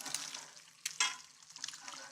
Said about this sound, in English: The pan is telling me to pay attention because there's a little bit of sizzling going on.